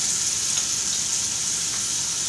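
Garlic sizzles steadily in melted butter in a pan, a close, continuous crackling fry without pause.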